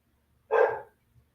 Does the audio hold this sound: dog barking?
yes